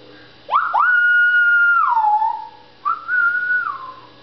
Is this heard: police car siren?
no